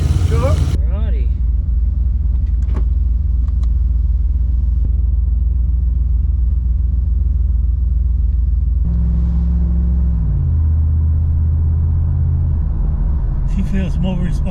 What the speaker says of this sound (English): You want to go for a drive around the street?